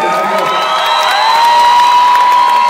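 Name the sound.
audience applause for the women on stage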